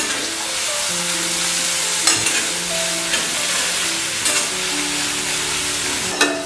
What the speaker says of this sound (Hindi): हम प्याज को भूनेंगे, हमें एकदम ब्राउन तो नहीं करना है, लेकिन अच्छा ट्रांसलूसेंट होने तक इसे हमें फ्राई करना है